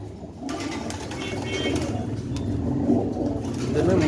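A male pigeon coos softly at a bird market, the low murmuring calls running beneath someone speaking and faint background noise.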